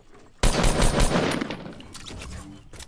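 Blue assault rifle in Fortnite Battle Royale opening up suddenly with a loud, rapid burst of automatic fire that trails into scattered shots and echoing game noise.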